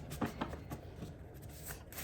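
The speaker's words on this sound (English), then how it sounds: "We want one more shuffle." A deck of tarot cards being shuffled by hand, soft riffling and flicking noises close by with a few sharper taps, quiet and unaccompanied by talk.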